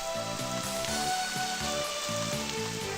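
Steady hissing rainfall in the video game Eternal Eden, a dense crackling wash that runs continuously over a soft, pulsing low musical loop.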